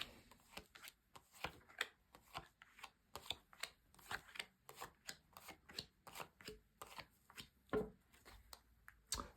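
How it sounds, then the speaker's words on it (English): A tarot deck is shuffled close up in rhythmic, evenly spaced riffles and soft slaps, about a dozen strokes, with no talking. "So a good shuffle. I'm going to lay down your 10 cards"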